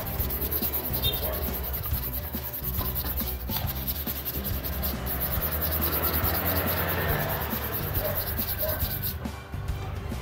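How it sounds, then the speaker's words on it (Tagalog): Chrome motorcycle crankcase cover being hand-sanded with 800-grit sandpaper, a continuous close scratchy rubbing in back-and-forth strokes with a low background hum throughout. "800 na liha muna yung ginamit natin."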